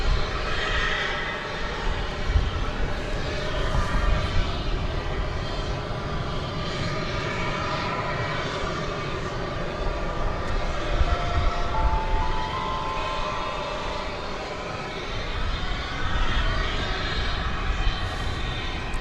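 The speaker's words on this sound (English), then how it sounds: "It's Spirit Flight 2902. It's going to Phoenix, an Airbus A320." Spirit Airlines Airbus A320 jet at DFW Airport, a loud, steady engine roar that holds for the whole span without letting up, broad and close, with no voices over it.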